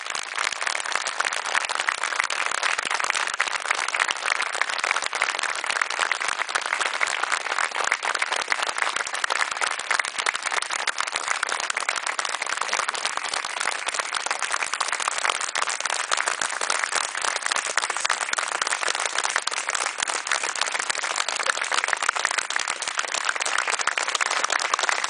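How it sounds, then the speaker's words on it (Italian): A gathering applauds Nino Lombardi, a continuous, unbroken wash of many hands clapping that holds steady and fairly loud for the whole stretch, with no speech. "per il quale vi chiedo un applauso"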